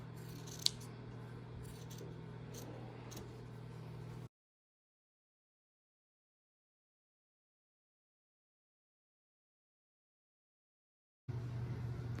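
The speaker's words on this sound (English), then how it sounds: "Mama is cutting off all the extra batting without cutting off the backing" Scissors snip through excess quilt batting while the backing is left intact, a steady close rustle with a few sharp cuts early on, followed by a long stretch of silence before the rustling resumes.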